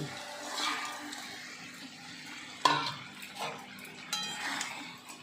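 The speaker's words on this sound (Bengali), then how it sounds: "মশলাটা কিন্তু ফুটে গেছে এবার আমি মাছটা দিয়ে দিচ্ছি" Pangas fish goes into sputtering mustard-oil spice paste for a Bengali tel jhal curry: a gentle sizzle and stirring swell, then a sharp splash as the fish lands, followed by wetter bursts of frying.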